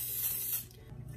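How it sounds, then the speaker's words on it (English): Coconut oil cooking spray hisses steadily into a pan in a home kitchen, one continuous close spray lasting about half a second, then a quieter tail. "I only have coconut oil spray, so that's what we are using."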